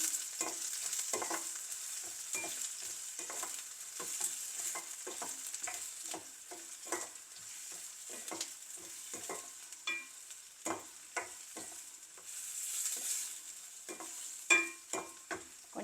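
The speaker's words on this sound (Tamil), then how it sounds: "இந்த வெங்காயம் கொஞ்சம் நல்லா வதங்கணும்" Onions sizzling in a pan for a prawn and curry-leaf masala, a soft continuous fry broken by frequent scraping stirs of the spatula, close and fairly quiet.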